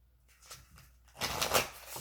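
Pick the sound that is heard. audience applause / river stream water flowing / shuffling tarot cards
shuffling tarot cards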